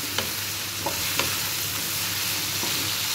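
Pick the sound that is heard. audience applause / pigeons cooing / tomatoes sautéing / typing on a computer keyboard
tomatoes sautéing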